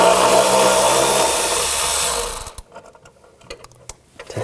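A 10mm socket on a ratchet, with a 9mm wrench, removes a nut on a 2000-2006 BMW X5 during rear shock replacement. A loud steady mechanical whir cuts off abruptly, leaving scattered clicks and light metallic taps.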